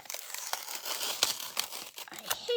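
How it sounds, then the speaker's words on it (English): Scissors snip through a paper envelope holding a handmade greeting card, giving a close run of crisp crinkling and tearing crunches over about two and a half seconds, with no talk. "I'm just going to take my scissors and cut this envelope."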